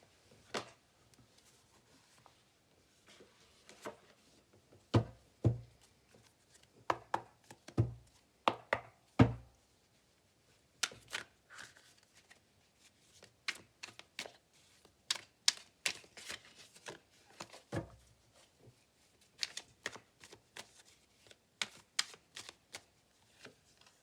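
Egyptian tarot cards are shuffled by hand in short, irregular bursts of crisp riffling and tapping, close and fairly quiet, with pauses between the bursts and no talk.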